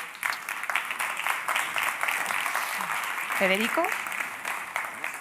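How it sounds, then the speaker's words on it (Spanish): At a labor reform data event, an audience applauds two guests called to the stage, a moderate wash of clapping with a presenter's voice speaking over it throughout. "Un aplauso para ellos."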